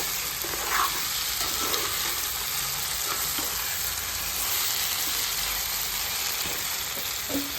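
Crab curry masala frying over a medium flame, a dense continuous sizzle with occasional soft stirring clicks and scrapes from the pan, no talking.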